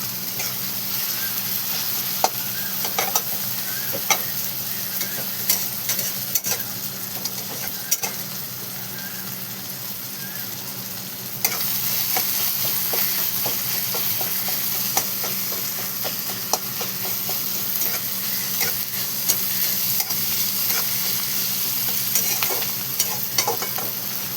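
Onion and tomato sautéing in a pan for a cauliflower curry, a steady close sizzle broken by scattered scraping stirs, with a louder busier stretch in the second half and no talking.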